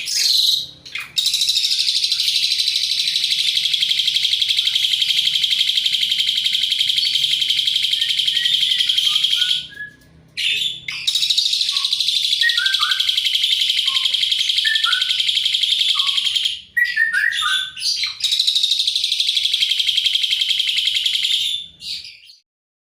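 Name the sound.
Asian pied starling (jalak suren) calls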